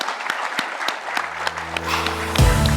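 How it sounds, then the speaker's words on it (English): Audience applause after a plenary talk, a short burst of clapping with distinct individual claps, ending as a voice speaks over it. "So let's give him a round of applause."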